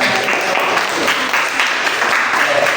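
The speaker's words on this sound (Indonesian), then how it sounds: "Tepuk tangan." A room of listeners applauds after a group's presentation in a class or seminar session, the clapping loud, dense and continuous throughout, with no clear speech over it.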